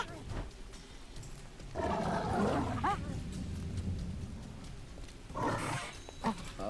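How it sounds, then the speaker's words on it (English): Wolf pack in the video game Drova, with growls and snarls rising in bursts near two and five and a half seconds over a low ambient bed, someone talking at times. "A pack of wolves."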